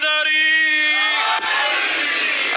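Majlis audience in Multan chanting a religious slogan together, a loud sustained unison shout of many voices that starts on a held tone and spreads into a broad roar.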